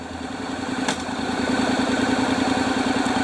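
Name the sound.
Honda DCT motorcycle engine running in drive on stand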